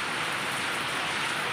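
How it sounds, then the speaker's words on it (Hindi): Heavy rain in Jaipur pours down as a dense, steady hiss of drops on surfaces, close and constant. "लेकिन अभी यहाँ पर तेज़ की बारिश शुरू हो गई"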